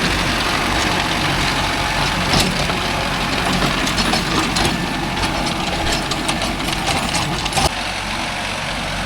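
Mahindra Arjun Novo 605 S tractor engine running at a steady, loud diesel rumble with a rough, knocking texture, close by and continuous with small bumps in level.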